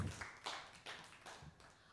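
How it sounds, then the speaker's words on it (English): Audience applause after a live performance at Studio 188, a short stretch of scattered, moderately loud hand claps that come in uneven bursts. "let's keep that applause going"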